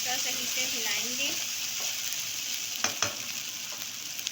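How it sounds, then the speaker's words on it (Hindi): Ginger and garlic fry in a pan for aloo matar, giving a constant loud sizzle while a spoon stirs them, with a few scraping clicks near the end and faint talk in the background. "पहले अदरक लहसुन डालने के साथ साथ हम चमचा सही से हिलाएंगे।"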